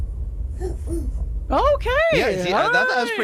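A toddler's voice imitates an owl hoot with a few soft, rising-and-falling hoo sounds, followed by adult talk over a low background hum.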